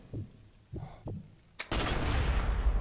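A single loud gunshot fired in the World War II sniper video game Sniper Elite 4, a sharp crack that erupts after a few soft thumps and rolls straight into a sustained, dense burst of noise that continues to the end.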